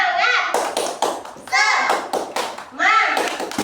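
Children clap in a rhythmic pattern in three repeated bursts of quick claps and slaps, with young voices chanting along between the beats.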